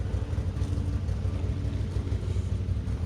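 A Can-Am Maverick Sport DPS 1000R side-by-side engine drones steadily while riding, a low throaty hum with a constant rumble, close and moderately loud, no talking.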